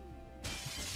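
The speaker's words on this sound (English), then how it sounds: "Smash window." A car window is smashed in a video game: a quiet moment, then a sudden bright crash of shattering glass that rings on to the end.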